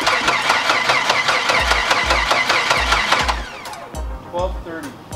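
A freshly rebuilt car engine with a flat tappet cam cranks with a rhythmic, loud starter chug, then catches and fires into an uneven, rising run, close by.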